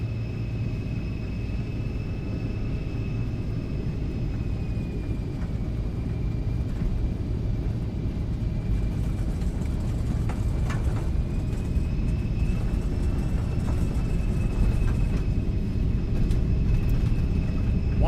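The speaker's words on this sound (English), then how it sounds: "There we go, takeoff." Simulated Embraer Lineage 1000 business jet in the X-Plane flight simulator, rolling down the runway for takeoff: a steady, loud, dense engine roar and rumble that holds throughout and swells slightly toward the end, with no talk.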